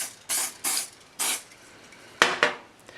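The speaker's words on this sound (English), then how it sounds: "Let's get some kicker spray on it." Short bursts of kicker spray, a glue accelerator, from an aerosol can, five quick hissing puffs spaced irregularly, close and fairly quiet with no talking.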